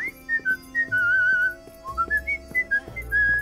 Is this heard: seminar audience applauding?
no